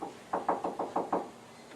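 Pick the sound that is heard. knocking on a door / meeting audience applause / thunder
knocking on a door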